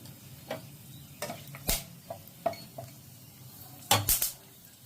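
Whole cardamom, cloves, peppercorns and cinnamon crackle in hot oil in a pan, with scattered sharp clinks and scrapes of a utensil against the pan over a low sizzle; no voices.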